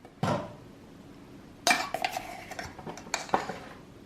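Measuring spoons scoop baking powder into a bowl of dry ingredients for a rum cake, making a few sharp metallic clinks and scrapes against the bowl, with quiet gaps between, with no talking.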